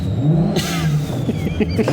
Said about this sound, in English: That's when he revs it.